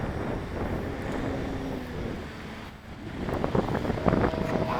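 An E-flite Carbon-Z Cub RC plane takes off at half throttle outdoors, its electric motor a buzzing drone under steady wind rumble that dips briefly, then swells louder.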